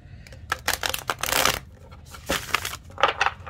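Tarot cards riffle and shuffle in quick bursts of crisp, papery flutters, several separate passes close up with brief pauses between them, no voices.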